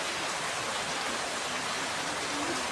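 Heavy rain pours during a storm, a dense, even roar of water close by and unbroken, with no distinct drops standing out.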